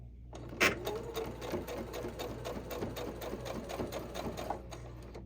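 A sewing machine runs steadily, stitching along drawn lines on a quilted zipper pouch with lining, a continuous close rapid whir with a brief louder burst near the start and no talk over it.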